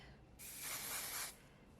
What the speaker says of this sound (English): I'm gonna spray it with a little bit of hairspray